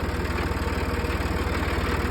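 A tractor engine idles steadily at close range, a deep, even low-frequency throb with a fast regular pulse running unbroken throughout, no voices present.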